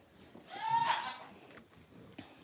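A nanny goat on a farm gives a single drawn-out bleat, calling for her kids, fairly faint against quiet outdoor background noise.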